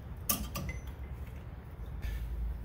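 A brake pad on a 2009-2011 Honda Fit slides into its caliper groove with a couple of close, brief metallic scrapes and creaks, followed by quiet shop ambience.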